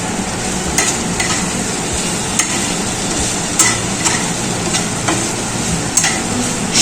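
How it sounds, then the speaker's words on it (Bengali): Slit green chillies and a little sugar stir-fried in a pan for aloo posto, a steady broadband sizzle with periodic scraping strokes of a spatula roughly every second, close and alone. "তারপর দিয়ে দিচ্ছি চেরা কাঁচা লঙ্কা, একটু চিনি, নেড়ে চেড়ে নিচ্ছি।"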